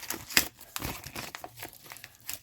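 A small paper surprise packet torn open and handled, giving close, quick bursts of crinkling and tearing in uneven clusters.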